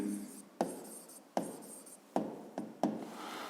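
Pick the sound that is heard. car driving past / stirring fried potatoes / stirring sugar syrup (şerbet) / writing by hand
writing by hand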